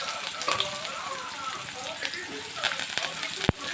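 Cumin, garlic, curry leaves and onion frying in hot oil for an upma-style dish give a steady, close sizzle and crackle, with a sharp pop near the end and some speech-like sound mixed in.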